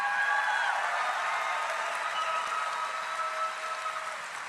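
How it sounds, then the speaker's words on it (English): A large audience applauds elected officials from city, state and federal government at an evening rally, a steady, dense wash of clapping held at even loudness throughout. "a round of applause for incredible elected officials that we have here from the city, the state, the federal level"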